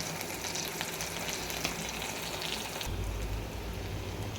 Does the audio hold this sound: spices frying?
yes